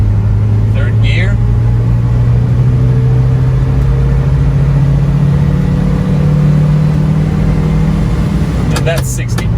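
A 1991 Toyota Hilux 1-ton pickup with its 1.8L 2Y engine and column-shift five-speed drives in third gear, a loud, steady mid-pitched engine drone that rises slightly and then eases near the end, with brief speech early on.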